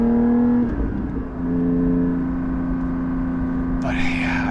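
Porsche 718 GT4 with a Soul exhaust, heard from inside the cabin: a loud, steady engine tone with strong harmonics that dips briefly, then holds again, with a short burst of higher noise near the end.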